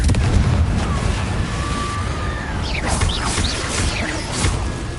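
Confringo fire spell bursting in the Hogwarts Legacy video game on PS5, a loud, dense rumbling blast with crackling debris that stays heavy throughout.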